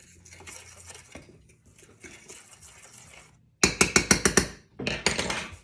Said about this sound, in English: Now we're gonna stir that.